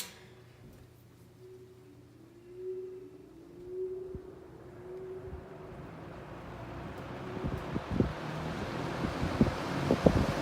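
A vintage 1960s Dominion box fan runs with a broad whooshing airflow that grows steadily louder, and light rattling ticks show up more often toward the end.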